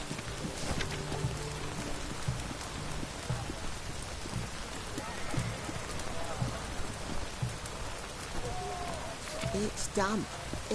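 Rain falls in The Witcher 3 video game, a constant dense patter on surfaces all the way through, with a horse, footsteps and game noises now and then over it and someone speaking.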